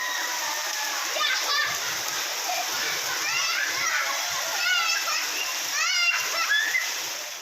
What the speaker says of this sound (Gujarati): ધોધમાર વરસાદના કારણે ભરૂચ શહેરના નીચાણવાળા વિસ્તારમાં પાણી ભરાયા।